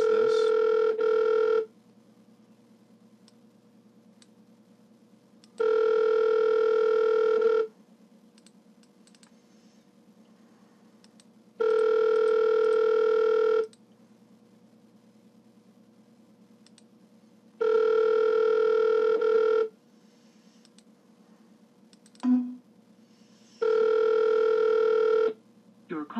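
Ringback tone on an outgoing phone call forwarded through Google Voice and Gizmo5: five steady, loud tone bursts of about two seconds each, separated by roughly four-second silences, with faint background hum and no talking.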